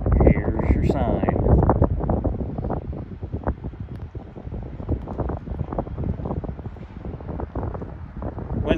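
Wind gusts across the Matanzas River on the Florida intracoastal waterway during boat fishing, a loud continuous rumbling buffet on the microphone that lasts the whole stretch.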